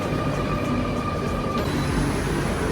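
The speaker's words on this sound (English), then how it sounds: "And here's our train." A steady, loud rumble of a train pulling into a Paris station close by, with a faint high whine over it.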